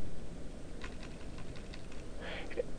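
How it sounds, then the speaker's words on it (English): Light keystrokes on a computer keyboard, a short run of soft, quick taps over a steady background hiss. "Now I can simply type in anything I want,"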